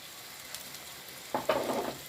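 Tomatoes are added to a pan of lightly browned peppers for menemen. A soft frying hiss is followed by a sudden brighter sizzle and scraping as they hit the hot pan, close by and without talk.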